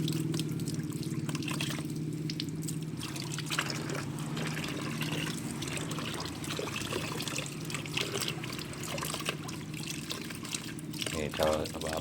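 Running tap water trickles steadily while a Monstera plant cutting is rinsed, a continuous close splash with a person talking over it.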